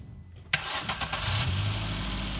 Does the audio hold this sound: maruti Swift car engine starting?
yes